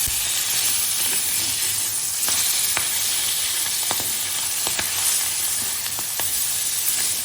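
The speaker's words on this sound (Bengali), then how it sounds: "একটু উল্টো পাল্টে ভেজে নেবো মাছটাকে" Prawns fry and are turned in hot oil in a pan, producing a loud, continuous hissing sizzle dotted with small pops and light utensil clinks throughout.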